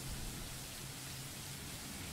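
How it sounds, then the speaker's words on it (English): Steady sheets of rain fall on dirt in a video game, a dense, even hiss of drops with no gaps, constant and close. "The rain falls fast in steady sheets, creating shallow puddles on the dirt, drenching everything the eyes can reach"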